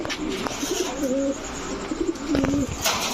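Several large red Sirazi pigeons coo in low, throaty rolling calls, repeating close by over a busy background of rustling and other birds.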